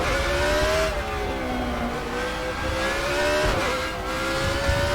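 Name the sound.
Judd V8 hillclimb car engine in RaceRoom video game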